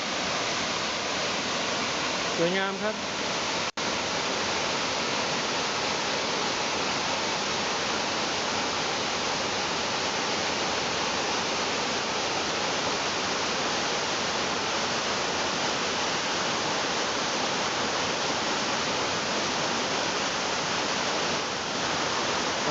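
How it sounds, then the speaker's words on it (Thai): Huay Sai Lueang waterfall, about 60 m high, in Doi Phanom National Park near Chiang Mai, Thailand, roars in a steady, dense wash of falling water throughout, with someone speaking briefly near the start. "เราถึงแล้วครับ น้ำตกห้วยทรายเหลืองครับ"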